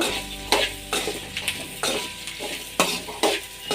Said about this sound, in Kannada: ಕುಂಬಳಕಾಯಿ ಹಾಕಿ ಇದನ್ನು ಎಣ್ಣೆಯಲ್ಲಿ ಚೆನ್ನಾಗಿ ಫ್ರೈ ಮಾಡಬೇಕು